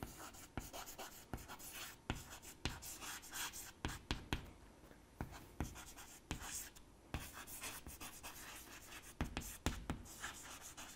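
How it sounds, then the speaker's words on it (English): Pen scratching by hand on a writing surface in a lecture setting, an email address being written out in quick irregular strokes and taps, close but quiet, with faint breathing between marks. "I would just write down my mail ID over here"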